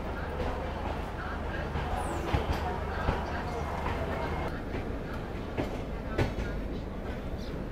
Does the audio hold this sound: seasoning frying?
no